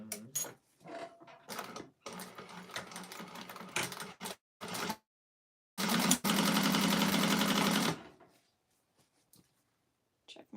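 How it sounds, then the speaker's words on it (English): An industrial sewing machine topstitches the interior of a clutch wallet. Scattered handling knocks lead to one short, loud, steady burst of stitching nearby, then quiet. "we're going to go ahead and top stitch on there"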